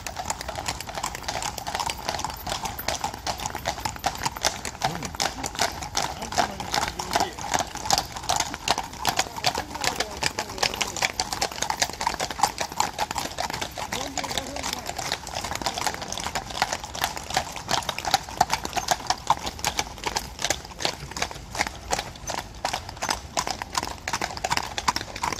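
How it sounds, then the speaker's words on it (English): A horse's hooves clip-clop at a steady walking rhythm on a hard surface, close and continuous throughout, with faint background voices. "and a beautiful horse."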